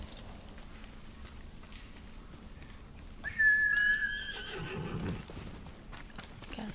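A horse in the video game Ghost of Tsushima gives a clear whinny partway through, then snorts, and hooves shift against a quiet outdoor ambience.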